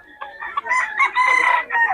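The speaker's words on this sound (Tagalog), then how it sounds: "Oh, mga solid quality yung manok nyo." Several roosters crow one after another in a fowl yard, loud and close, with overlapping calls and some clucking, and no talk.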